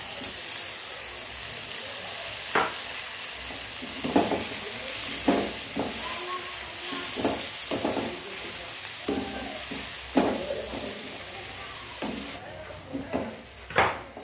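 Chopped tomato fries in a pan for chicken do pyaza with whole spices, giving a steady, soft sizzle broken by intermittent scraping stirs and clinks throughout.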